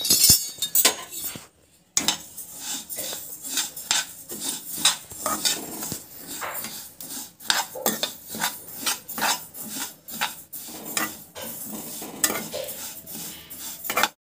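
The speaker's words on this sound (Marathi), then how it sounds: "आता तीळ भाजून घ्यायचे, कोरेच भाजून घ्यायचे।" Sesame seeds dry roasted in a pan with no oil, stirred steadily, giving dense repeated scraping, rasping and clinking of a utensil against metal, close and continuous with a brief pause early on.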